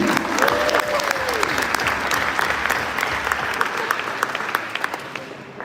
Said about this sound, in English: Let's give a big applause for this dish